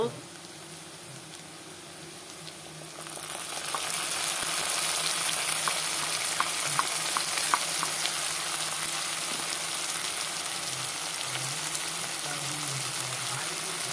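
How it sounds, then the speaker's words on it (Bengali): Browned onions and ground spices fry in oil in a pan for a Bengali fish curry, a loud steady sizzle that swells after a few seconds and holds close with occasional stirring clicks. "আমার পেঁয়াজগুলো লাল করে ভাজা হয়ে গেল। এখন মশলা ঢেলে দেব।"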